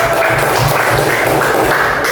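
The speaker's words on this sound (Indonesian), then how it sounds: "Terima kasih tepuk tangan untuk 1." Students in a classroom clap for group 1, many hands together in a dense, continuous burst of applause that carries through to the end.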